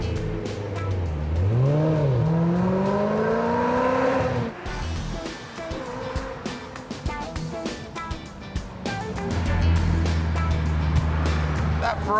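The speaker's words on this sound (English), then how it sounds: "That Ferrari V8 is awesome, isn't it?" Loud Ferrari V8 engine revving and roaring up and down, with rising and falling pitch sweeps, then settling into a rumbling idle before surging again, close by and mostly alone.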